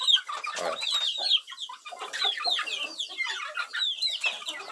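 Chickens, including Galinha Sertaneja Balão birds, cluck and chatter close by in a busy overlapping flock, with short clucks and higher peeping calls throughout.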